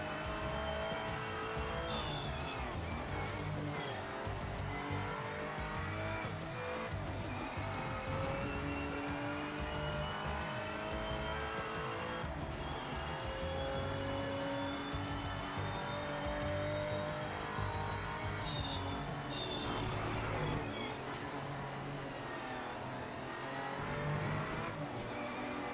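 A Porsche race car in the Project Motor Racing video game, its engine revving and shifting continuously through corners with occasional tire squeal, loud and steady throughout.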